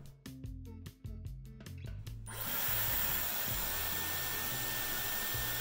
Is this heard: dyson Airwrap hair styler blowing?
yes